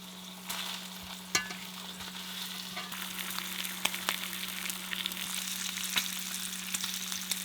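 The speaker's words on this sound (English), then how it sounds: "make some bacon" Bacon fries in a pan with a constant soft crackle and sputter, punctuated by occasional sharper pops and faint utensil clicks, over a low steady electrical hum, with no one speaking.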